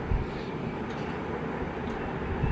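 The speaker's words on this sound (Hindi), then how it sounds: "सामने से ये मोनोरेल आ रही है।" A driverless monorail train on Sentosa Island approaches the station platform, a steady broad rumble and rolling rush that holds level throughout, with no talking over it.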